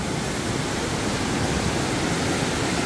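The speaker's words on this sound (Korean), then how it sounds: "이렇게 계곡의 물이 장난이 아닙니다." A mountain valley stream in Bansagol Valley on Jirisan, swollen after heavy rain, rushes and roars in a continuous loud wash of water with no break.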